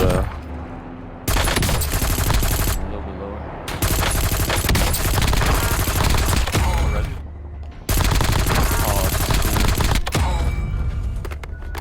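Grau 5.56 rifle fire in Black Ops 6 comes in loud, sustained bursts of rapid shots, broken by brief pauses, with a voice speaking over parts of the gunfire.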